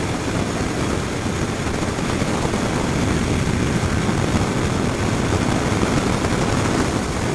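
A brand-new Kawasaki Z900 with a 948 cc engine runs during break-in, giving a steady, loud, even drone with rushing wind, heard close and unbroken with no talk.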